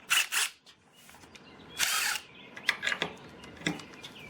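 A DeWalt Atomic impact driver set on high drives bolts, firing short loud whirring hammering bursts separated by pauses, heard up close with no talking.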